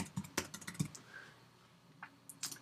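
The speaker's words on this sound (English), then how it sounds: "So you can type in, what's my screen resolution?" Keys on a computer keyboard are tapped in a short irregular burst of several close, crisp clicks, then a brief pause and a few more keystrokes, with no talking.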